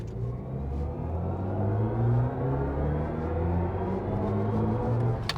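A BMW i5 M60 xDrive electric car accelerating hard from inside the cabin: a loud, steady synthetic drive hum with rising whirring tones and road rumble, continuous for the whole stretch with no talking.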